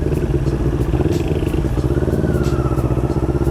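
A CFMoto NK400 motorcycle engine drones steadily and loud while being ridden, with a continuous low rumble and some rattling clatter, close and unbroken throughout.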